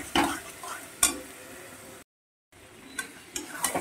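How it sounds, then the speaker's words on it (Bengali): Chicken being stirred and fried with spices in a home kitchen pan: scraping stir strokes and sharp utensil clacks over a steady sizzle, with a brief silent gap midway. "চিকেন দিয়ে ভালো করে নাড়িয়ে চাড়িয়ে একটু কষিয়ে"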